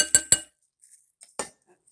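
A spoon clinks sharply against a bowl while chana chaat is mixed, giving two quick bright strikes, a brief pause with soft scrapes, then one more clink, all close and alone.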